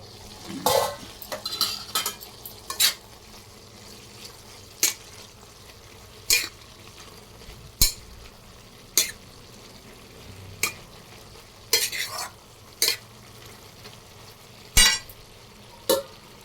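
Cut tomatoes added to a pan and stirred, a low background sizzle with repeated sharp clinks and scrapes of a spoon against the metal, spaced irregularly through the stretch, close up and with no voices.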